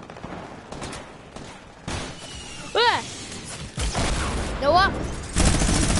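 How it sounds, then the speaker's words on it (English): Minigun fire in a video game comes as sustained, rolling gunfire noise that builds toward the end, with a person briefly shouting over it. "I tried to shoot somebody with a minigun."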